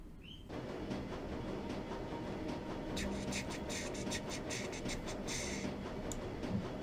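Steady rumbling train ride ambience from the game Shadowrun: Dragonfall, a continuous low rail hum with faint rhythmic clicks and a brief electronic tone at the start, heard alone at moderate level.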